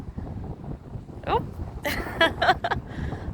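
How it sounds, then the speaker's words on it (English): Strong gusting wind on a windy advisory day in Nebraska during pelican migration, buffeting the microphone with a constant low rumble, while a voice speaks briefly partway through. "It is really very, very windy."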